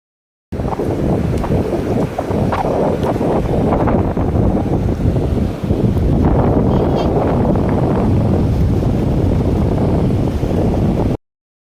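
Strong wind sweeps across the beach at Mandarmani by the sea, buffeting the microphone with a loud, constant roar while surf rumbles faintly beneath it for the whole stretch.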